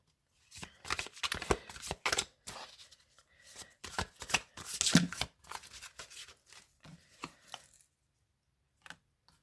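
Deck of tarot cards being shuffled by hand, close crisp riffling and slapping in uneven bursts with short pauses, ending in a few isolated taps.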